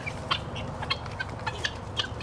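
Guinea fowl and chickens clucking in a farmyard, a series of short, sharp chirps and clucks scattered over a steady low background rumble at moderate distance.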